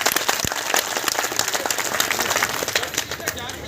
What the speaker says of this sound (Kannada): ಮಾನ್ಯ ಸಚಿವರಿಗೆ ಇಬ್ಬರಿಗೂ ನಾವು ಒಂದು ಚಪ್ಪಾಳೆ ತಟ್ಟೋದ್ರ ಮೂಲಕ ಸ್ವಾಗತ.